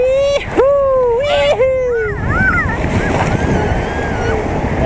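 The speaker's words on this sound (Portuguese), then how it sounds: "Cuidado com a onda, Melissa." Ocean waves break and wash along a beach, a loud continuous rush of surf and wind noise that swells after the opening seconds, while a voice calls out in Portuguese over the start.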